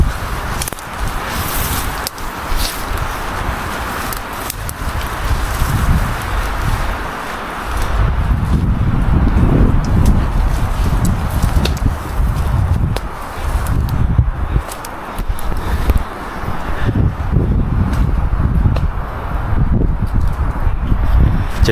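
Strong wind gusting on Mount Wilis, a loud continuous low roar with surging buffets across the mountain trail, alone without talk.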